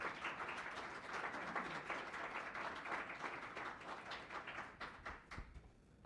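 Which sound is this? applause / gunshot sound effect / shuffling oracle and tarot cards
applause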